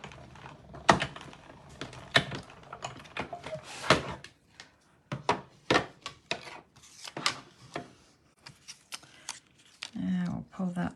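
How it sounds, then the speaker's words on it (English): Paper run through a hand-cranked cut and emboss machine for a Stampin' Up! card project, giving a series of rubbing, ratcheting crunches and scrapes up close, with some pauses between bursts. "And I'll just run that through this cut and emboss machine."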